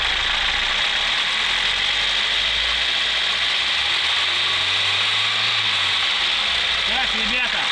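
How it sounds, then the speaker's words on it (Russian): A VAZ car's carbureted engine runs loud and close throughout with a steady mechanical whir, the revs held up and slightly rising, and a voice briefly over the top. "И теперь я добавляю обороты"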